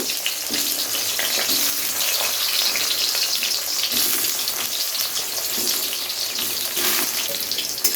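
Eggplant pieces fry in hot oil, a dense, steady, loud sizzle that holds evenly from start to finish, close up and with no one speaking.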